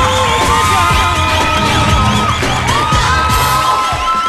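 A TV studio audience of female fans screams and cheers loudly in sustained, overlapping shrieks and whoops.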